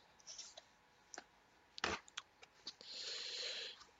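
Cardboard retail box for an Asus Xonar Phoebus 7.1 sound card being opened: a few scattered clicks and soft handling taps, one sharper snap near the middle, then a longer scraping slide of packaging, close and quiet with no talk.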